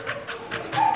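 An American Staffordshire mix female dog about a year old gives short soft whimpering and yipping sounds in quick succession, heard close by.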